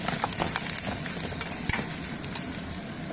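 Ginger pieces sautéing in a pan for mango ginger chutney, giving a steady close sizzle with light stirring scrapes and no voices.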